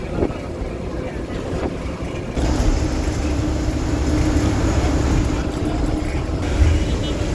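A train departs near the Pamban railway bridge by the sea, a broad, steady rumble that swells and stays loud, heavy with wind noise on the microphone.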